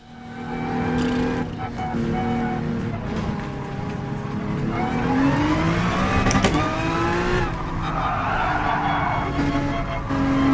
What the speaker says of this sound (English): Controlling the slide is really hard in this car.